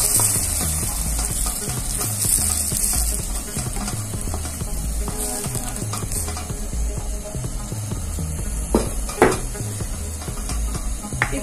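Tomatoes and zucchini fry in a pan with a steady close sizzle, while a utensil stirs and scrapes in repeated rhythmic strokes and gives a few sharper knocks near the end.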